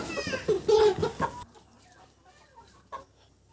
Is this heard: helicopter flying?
no